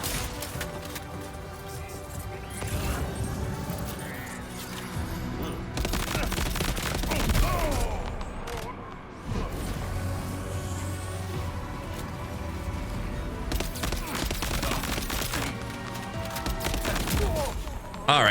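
Sustained assault rifle fire in the video game Death Stranding 2 rattles in repeated bursts over steady game music, loud and dense for most of the stretch, with brief lulls between volleys.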